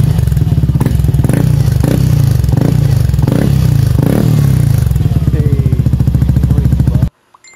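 A Yamaha Aerox V2 or NMAX V2 scooter fitted with an Etech Pipe V3 exhaust on a stock engine barks close and loud with a rapid, staccato firing rhythm, blipped repeatedly before settling into a steady idle burble that cuts off abruptly.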